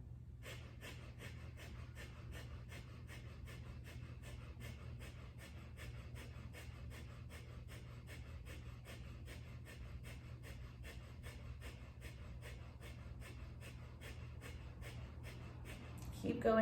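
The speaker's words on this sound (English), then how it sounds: "Keep the breath of fire going." Breath of fire, the rapid breathing exercise, comes as fast, evenly spaced sharp exhalations, about two per second, held steady and close throughout against a low background hum.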